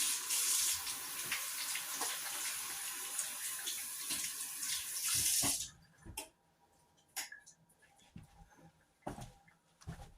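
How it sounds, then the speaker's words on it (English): A towel rinsed under a running kitchen sink tap, loud steady gushing water for about five seconds, then the flow stops and a few wet handling thumps and drips follow. "Rinse out your towel in the sink before you throw it in your wash, please."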